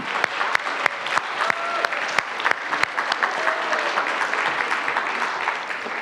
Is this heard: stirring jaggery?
no